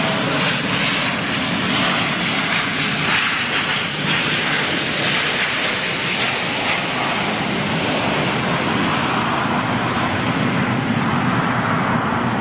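Steady, loud roar of a jet airliner landing on the southern runway, a broad continuous engine rumble that holds without a break throughout.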